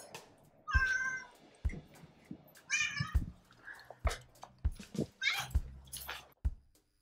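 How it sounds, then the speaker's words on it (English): A house cat meows several times in a room of a home music studio, the calls clear and close, with quiet rustling and soft knocks around them and no talk. "This is my cat."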